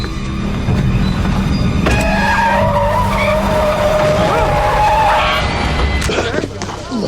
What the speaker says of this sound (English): he's going to be hit by the car